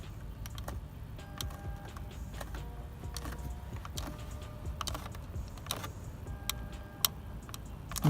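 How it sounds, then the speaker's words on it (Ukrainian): A plastic interior door handle in a Renault Kangoo 3 creaks and clicks in a series of short, faint, irregular ticks close to the microphone, with no talking. "Ось такий от звук йде. І з цієї, і з тої ручки."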